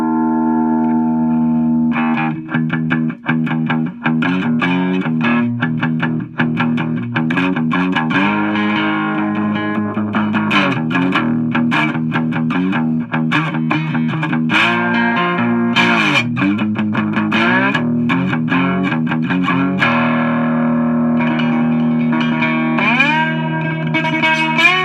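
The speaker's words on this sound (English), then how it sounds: "So we'll start off here with just the piezo." Slide notes on a cigar box guitar picked up only through a piezo pickup, gliding between sustained, bright pitches with a twangy, slightly distorted tone, played continuously and loud with no voices.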